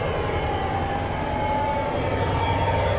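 A Union Pacific SD70M diesel locomotive labors up Donner Pass in Train Simulator 2015, a steady, loud engine drone with a low rumble and a faint sustained whine, continuous and unbroken.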